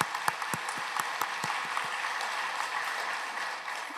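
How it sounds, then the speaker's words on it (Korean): Applause from a church congregation during a Sunday service, a steady wash of many hands clapping at a moderate distance, with a few sharper individual claps standing out near the start. "우리 하나님께 감사와 영광의 박수를 올려드립시다"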